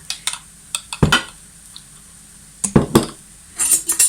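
A plate with a knife and spoon set down on a table in a rural kitchen, a few separate close clinks and clatters of cutlery and dishware spaced across a few seconds with quiet gaps between them.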